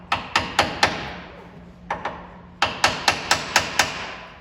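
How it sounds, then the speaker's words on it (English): Wooden mallet hammering a spur bit into wood on a lathe, a close series of sharp, evenly paced thuds: four blows, a pause, two more, then five in quick rhythm. "I'm going to take a wooden mallet,"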